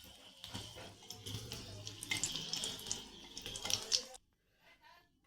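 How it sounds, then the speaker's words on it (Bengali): Nigella seeds and dried red chillies dropped into hot oil left from frying tilapia, a close, bright sizzle and spatter lasting about four seconds before cutting off to near quiet. "ওই তেলের মধ্যেই আমি একটু কালো জিরা দিয়ে দেবো"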